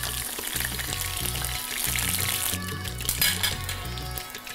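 Chicken wings fry in hot oil, a loud, continuous close sizzle and crackle with occasional metallic clinks from a strainer and pan, and no talking.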